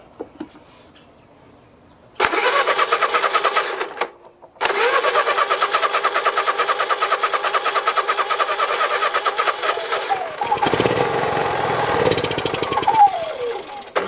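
An old generator engine cranks over after carb cleaner is sprayed into it, trying to start. The close, loud, rapid mechanical churning runs in two long bursts separated by a brief pause, then shifts into a rougher, uneven roar toward the end.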